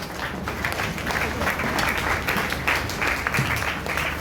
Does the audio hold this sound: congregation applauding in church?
yes